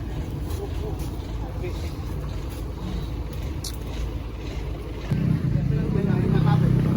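A tank truck engine idles with a low, steady rumble during the recovery of an overturned tanker, then grows louder and rougher as it revs to pull, with people talking nearby.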